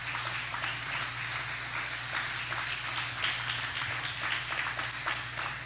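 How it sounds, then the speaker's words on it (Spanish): Congregation applause during a church sermon, a steady dense wash of many hands clapping at moderate distance, continuous throughout with a low hum underneath and no clear talk. "Pueden darle el aplauso."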